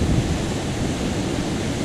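Whitewater on the Lower Owens River in the Eastern Sierra rushes in a brief, steady, close hiss, with no voices.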